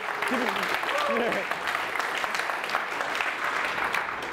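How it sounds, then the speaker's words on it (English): A small group applauds during a talk between two millionaires about success, the clapping fairly soft and continuous, with voices and a brief vocal sound over it early on. "Yeah, you can applaud that"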